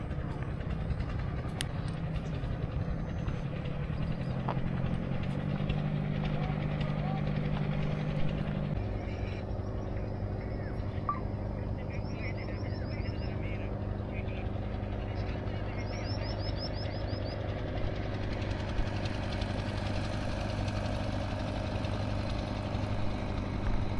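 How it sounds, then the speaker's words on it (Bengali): A motor boat passing on a wide river beside a farming char: a continuous low engine drone hums throughout, with a rougher, louder stretch at the start that settles into a steady idle-like throb. "একজন নৌকা নিয়ে যাইতেছেন।"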